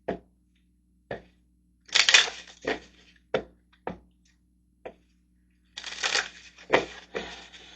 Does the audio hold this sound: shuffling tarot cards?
yes